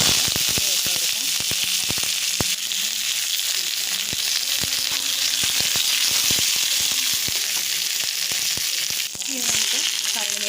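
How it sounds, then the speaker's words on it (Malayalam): Tempering for taro-stem curry: mustard seeds pop and crackle sharply in hot oil while chopped onion, chili and curry leaves sizzle loudly and continuously, close up, with dense irregular pops across the whole stretch. "കടുക് പൊട്ടി വരുന്ന സമയത്ത് നമുക്ക് അരിഞ്ഞ് വെച്ചിരിക്കുന്ന ഉള്ളി, മുളക്, അതുപോലെ കറിവേപ്പില ഇട്ട് കൊടുക്കാം."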